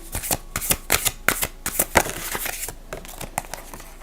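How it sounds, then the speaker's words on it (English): An oracle card deck is shuffled by hand in quick, uneven bursts of riffling and slapping card sounds, close and clear, with no talking. "I'm going to pull you just a random oracle card."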